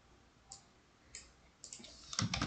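Keys on a computer keyboard are tapped, a few soft isolated clicks followed by a quicker burst of typing, close and quiet against a low room hiss.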